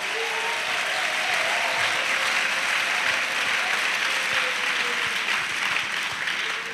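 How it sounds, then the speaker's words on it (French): A church congregation claps together as an offering to Jesus, producing a dense, even wash of applause that stays loud and continuous throughout. "Clap offering to Jesus."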